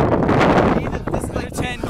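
Gusty wind rumbles loudly against the microphone outdoors, with a voice faintly heard under the blustery noise.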